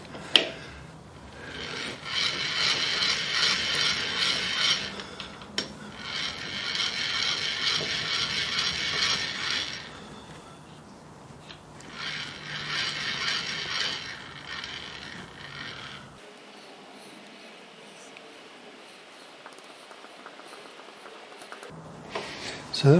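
A milling machine table is cranked across and a vise slid along it, giving long rasping, grinding slides in several bursts with pauses between, close and fairly quiet, with some talk.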